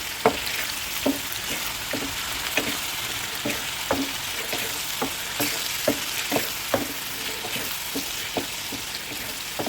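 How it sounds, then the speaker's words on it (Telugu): Stuffed ridge gourd frying in hot oil in a pan, a constant crackling sizzle with regular soft taps of a spatula or spoon turning the pieces, close and steady, no talking. "ఇట్లా ఇది నూనెలో మంచిగా వేగినాక"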